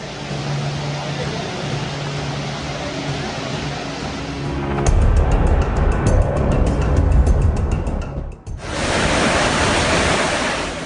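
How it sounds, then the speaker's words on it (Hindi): Monsoon floodwater from a swollen rain drain pours over a bridge on a road in Nainital, a loud, steady roaring rush of water that surges heavier midway, briefly dips, then roars on. "यहाँ नाले का पानी इतना ज्यादा बढ़ गया कि वो इस पुल के ऊपर से बहने लगा।"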